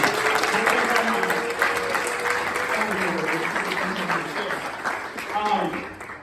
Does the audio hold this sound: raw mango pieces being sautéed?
no